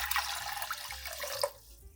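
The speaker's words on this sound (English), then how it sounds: "Prepare a bowl with 1 liter of clean water" Clean water pouring into a bowl, a close splashing trickle with a few drips that stops abruptly near the end, leaving quiet background music.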